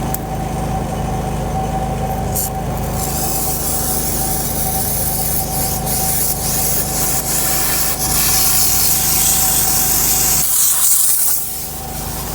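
A car floor mat is scrubbed with sudsy cleaning chemicals while an engine or machine hum runs steadily beneath, making a continuous loud hissing, rubbing wash with a constant tone throughout.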